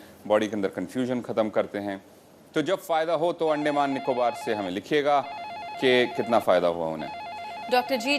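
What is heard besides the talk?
telephone bells ringing continuously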